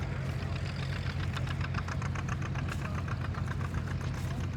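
An old tractor engine runs at a farm show with a steady, knocking chug, moderately close and continuous, with no talk over it.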